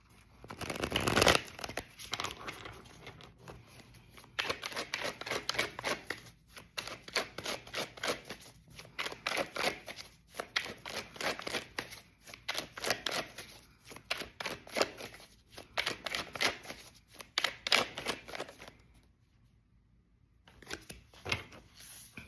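Tarot cards being shuffled in a long run of quick, crisp riffling and flicking bursts at close range, pausing briefly near the end before a few more soft card sounds, with no talking.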